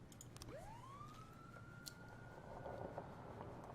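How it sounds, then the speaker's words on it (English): A police car siren in the video game This Is The Police winds up from low to a steady high wail, heard at a distance over a constant background hum with faint clicks. "I think it's just a police car rocking up to the police station"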